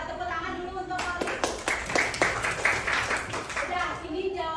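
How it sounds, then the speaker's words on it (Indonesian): A classroom group claps for a student, a burst of dense hand claps building up after a moment and lasting a few seconds before trailing off, with faint background chatter. "ini tepuk tangan dulu untuk Kori"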